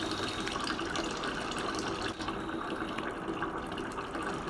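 A pet pigeon bathes under a running tap. Steady, gushing water fills the whole stretch close up, with faint splashing texture and no voices.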